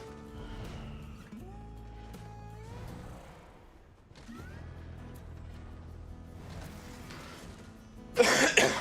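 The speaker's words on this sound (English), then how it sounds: "Sorry about the cough." A streamer coughs loudly and harshly in a short burst near the end, up close, following a stretch of quiet game music and effects from a PvP session in an online game.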